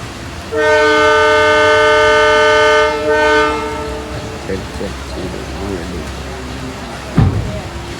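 A train near a railway station on the Nilambur line sounds one long, loud horn for about two and a half seconds, then rumbles and clatters past nearby in the rain, with a sharp clank near the end.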